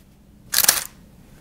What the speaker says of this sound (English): But just listen to the shutter.